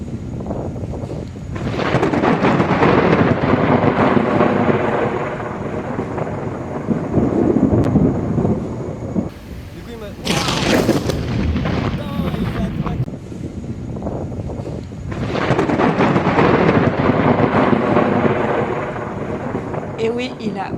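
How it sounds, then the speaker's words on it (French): Heavy thunderstorm in Kuala Lumpur, Malaysia, with loud rolling thunder rumbles in repeated waves, wind buffeting the microphone and rain hissing in between. "moi je regardais les orages qui nous arrivaient dessus"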